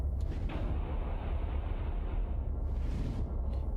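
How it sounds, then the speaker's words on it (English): Explosion in the space game Starsector, a low rumbling blast with a sustained deep roar and a brief crackling burst later, fairly quiet and without talk. "Because of that explosion."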